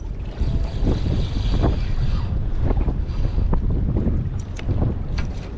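Strong wind buffets a small fishing boat on the sea off Long Beach during halibut fishing, with loud, steady rumbling gusts against the microphone and a wash of waves beneath.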